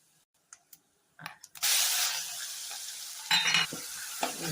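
Cumin, asafoetida and turmeric drop into hot oil for a banana curry, a few light taps first, then a sudden loud sizzle that keeps hissing steadily with a brief flare of crackle near the end.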